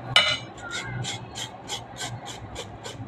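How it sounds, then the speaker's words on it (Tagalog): Young coconut meat scraped slowly from the shell with a utensil, a soft rhythmic rasping of about ten even strokes, close and fairly quiet, with no talking. "tatanggalin natin yung laman nito. Ganyan din, kakayurin nyo lang dahan-dahan."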